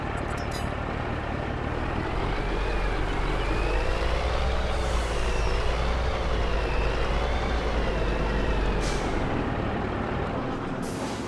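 A truck engine in Farming Simulator 22 idles steadily during unloading, with a low rumbling drone and wavering higher whine, plus brief hissing bursts near the start and end.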